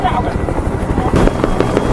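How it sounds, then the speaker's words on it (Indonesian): A helicopter approaches in a film scene about special forces, its low, steady rotor rumble loud and close throughout, with sharper bursts layered on top. "terdengar suara helikopter yang mendekat"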